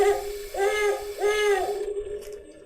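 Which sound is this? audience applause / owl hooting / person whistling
owl hooting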